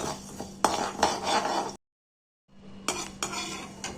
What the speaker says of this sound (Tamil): இப்போ வந்து அரிசி, மிளகு, அப்புறமா வெந்தயம் இது 3 சேர்த்து அப்படியே வறுக்கணும்.